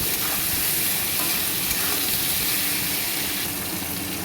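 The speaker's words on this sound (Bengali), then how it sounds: "তারপর সেই সেদ্ধ পুঁই শাকগুলোকে একটু তেলের মধ্যে নাড়াচাড়া করে ভেজে নিলাম।" Boiled Malabar spinach (pui shak) tossed and fried in oil in a pan, giving a dense, steady sizzle and hiss at close range with no talk, over a faint low rumble.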